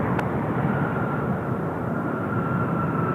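An Airbus A350 at Seoul Incheon Airport, a continuous broad engine roar that holds steady at a moderate distance without letting up.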